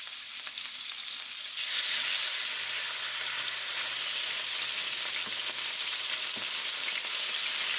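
Steak sears in avocado oil in a hot pan, a steady loud hiss and sizzle that swells a notch as the meat settles in, with a few faint clicks beneath.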